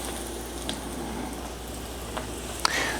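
Eggplant slices frying in hot oil give a faint, steady sizzle with soft bubbling and a few small pops, continuous and low in level throughout.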